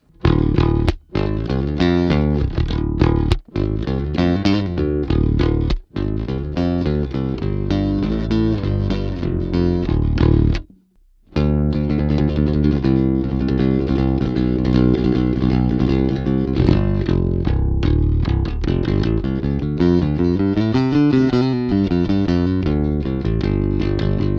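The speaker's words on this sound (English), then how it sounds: "enabled the resonant boost on the bridge pickup to give you some kind of real gritty picking tones" Gritty, distorted bass guitar notes picked steadily and loudly on the bridge pickup of a jazz bass through a Lusithand NFP filter preamp with resonant boost, with a brief pause near the middle before the riffing resumes.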